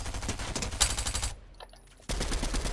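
Fortnite gunfire rattles in loud rapid automatic bursts, stops briefly, then resumes at close range, with no talking over it.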